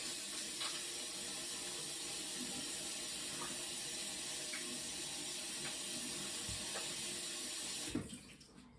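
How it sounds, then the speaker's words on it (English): Tap water runs steadily for about eight seconds as hands are washed under the stream in a kitchen while baking dog treats, a constant close hiss that cuts off abruptly near the end. "Just gonna wash my hand for a second"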